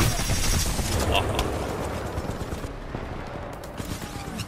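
Gunfire in Titanfall 2, a dense, continuous roar of rapid shots and explosive rumble filling the scene at close range, with a voice talking over it.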